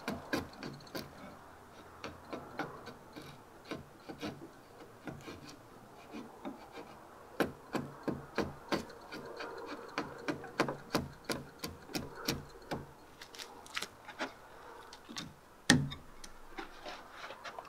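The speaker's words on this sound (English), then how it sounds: "Taking a sharp chisel and I'm just paring down to that line just like I do on a notch." A sharp chisel pares wood on a dovetail log cabin build, producing a string of short, dry scraping clicks and taps at an uneven rhythm, fairly close and quiet, with no voices.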